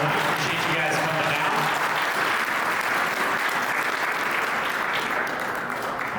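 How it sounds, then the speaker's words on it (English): A crowd at a Reds Caravan event claps steadily in sustained applause that fills the whole stretch, loud and even. "why don't you give them all a quick round of applause?"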